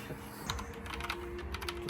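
Rapid typing on a new mechanical computer keyboard, fast close clicking keystrokes at a quiet level.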